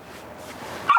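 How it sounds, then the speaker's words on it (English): A dog lets out one short, sharp bark near the end, fairly faint and somewhat distant, after a stretch of low background hum. "there is a dog barking here"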